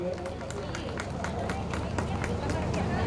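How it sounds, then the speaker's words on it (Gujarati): A crowd at a village community gathering applauds to welcome speakers, a steady wash of many hands clapping with murmuring voices mixed in. "તાળીઓથી એમને વધાવીએ."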